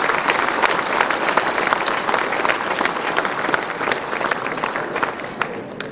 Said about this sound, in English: Now we can give them all a round of applause.